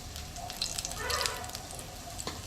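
Cumin seeds hit hot oil for a country chicken curry, giving a soft, steady sizzle with faint crackles and a brief louder swell in the middle, heard alone at low volume.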